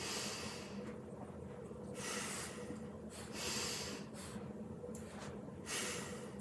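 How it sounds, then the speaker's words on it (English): Deep, slow breaths taken during a mobility exercise, a few long airy inhales and exhales close to the microphone, each swelling then fading, with no talking. "2 more big breaths."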